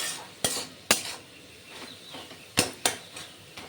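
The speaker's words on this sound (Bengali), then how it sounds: "এবার নাড়াচাড়া করে মিশিয়ে নেব শাকের সঙ্গে নুন আর হলুদ।" Tongs stir tender note shak greens with salt and turmeric in a pan, giving sharp metallic clinks and scrapes at irregular intervals over a faint background hiss.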